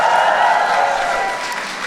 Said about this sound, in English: Can everybody please give Aisha a big round of applause?